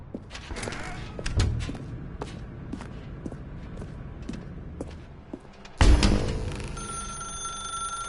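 In The Stanley Parable: Ultra Deluxe, footsteps tap through a dark room before a telephone starts ringing loudly and close, its bright tone sustained to the end.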